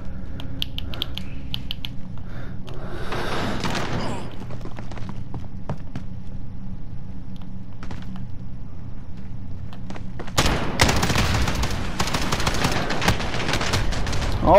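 Scattered gunshots and bursts of gunfire sound in a shooter video game, with sparse clicks and pops giving way to a loud, dense volley near the end, under occasional talk.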